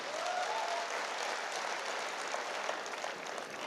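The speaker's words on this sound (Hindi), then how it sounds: "गुरुजी के लिए भी जोरदार तालियां चाहिए।" Steady applause from a seminar audience, a dense, even wash of clapping hands heard without a break throughout.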